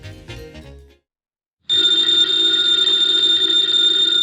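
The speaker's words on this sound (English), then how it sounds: "the ringing of that phone bell means mystery, adventure." An old telephone bell rings in a 1951 radio drama, The New Adventures of Nero Wolfe. A short burst of music drops to silence, then the bell comes in with a loud, continuous metallic ring.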